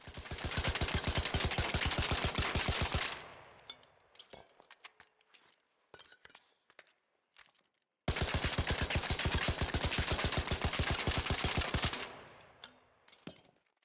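Kettle rifle from ARC Raiders, fitted with a muzzle brake and vertical grip, fires two long rapid bursts of sharp regular shots. A stretch of scattered clicks and light impacts separates the bursts.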